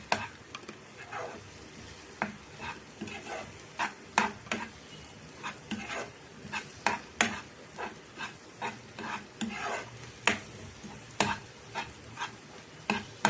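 Egg Maggi with masala is stirred in a pan, a spatula scraping and tapping in a steady rhythm of roughly two strokes a second over a low sizzle.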